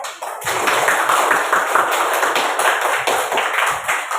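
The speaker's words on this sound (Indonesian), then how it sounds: "Tepuk tangan" A classroom of primary school pupils clapping together on cue, a dense, close burst of hand claps sustained evenly for about four seconds.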